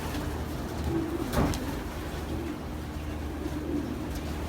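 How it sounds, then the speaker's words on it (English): Pigeons coo in a low, steady murmur through the whole stretch, one louder call standing out near the middle, with no talk over them. "Very nice pigeon."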